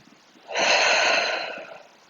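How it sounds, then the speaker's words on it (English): A single deep breath during a yoga cool-down, a close, airy inhale that swells quickly and fades over about a second, with no talking. "take one more deep breath"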